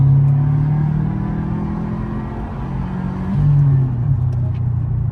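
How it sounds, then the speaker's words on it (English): A Subaru Impreza with a newly replaced clutch pulls uphill in third gear at around 4,000 RPM, its engine giving a steady, loud, close rumbling drone that rises slightly in pitch as it climbs. "if camera guy shows the bit of a hill and we accelerate up"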